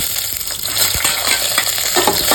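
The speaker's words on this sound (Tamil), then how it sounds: "சேர்த்து நல்லா அது வறுபடுற வரைக்கும் வறுக்கட்டுங்க" Cumin seeds, dried chili and urad dal fry in hot oil for a Kanchipuram-style curd curry, giving a steady close sizzle with small crackles and scattered spoon clinks, no voices.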